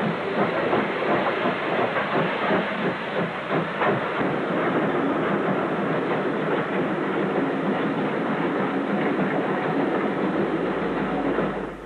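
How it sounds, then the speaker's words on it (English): A steam train climbs a one-in-65 gradient behind a Standard Mogul locomotive, making a steady, loud rolling roar with rhythmic clickety-clack and hiss throughout, no voices. "We set off behind a standard mogul up the one in 65 gradient"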